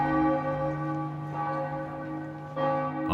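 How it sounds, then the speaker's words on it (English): Amiens Cathedral's church bells ring out in a sustained, resonant peal with long overlapping hum, a fresh stroke arriving near the end, close and steady with no voices present. "the bells in Amiens Cathedral began striking 12"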